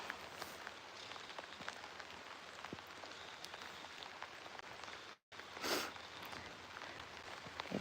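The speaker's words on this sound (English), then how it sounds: "it's raining on me pretty good." Steady rain patters on a rain jacket outdoors on a misty ocean day, a close, even hiss of drops with a brief dropout near the end.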